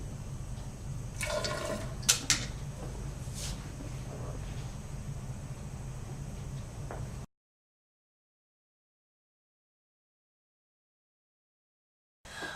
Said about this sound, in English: because the washing up liquid is present, it will actually bubble and foam